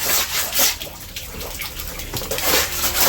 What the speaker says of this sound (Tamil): மழை இப்போ தான் வந்து நம்ம மாடி மேலே வந்து மழை தண்ணி வந்துட்டு இருக்கு